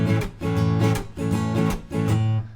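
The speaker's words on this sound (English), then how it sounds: "I kind of mute the strings with my strumming hand and then pick at the same time" Electric guitar strummed in a steady rhythm with the strumming hand muting the strings for percussive dead-note chops between ringing chords, part of a song, close and moderately loud.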